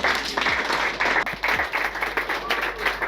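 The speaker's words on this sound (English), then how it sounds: "Can we really clap for them again?" An audience claps again for visiting children at an international friendship event, a steady wash of many hands with a few sharper individual claps, moderately loud and continuous throughout.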